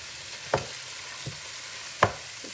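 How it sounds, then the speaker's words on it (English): Meat and garlic sizzle faintly in a frying pan, a quiet steady crackle broken by two sharper clinks and scrapes of stirring. "we're gonna go over to our pan real quick because I hear it sizzling"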